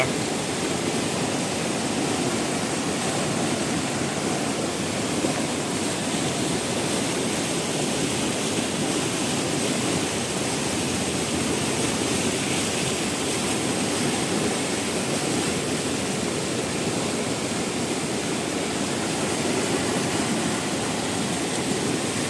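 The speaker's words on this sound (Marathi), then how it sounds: "फुल प्रेशर आहे पाण्याला आणि सगळं पाणी गोदावरी नदीला चाललं आहे" The flooded Agasti river rushes under full pressure at Ravande village, a dense, continuous roar of churning water that stays loud and unbroken throughout, with no voices over it.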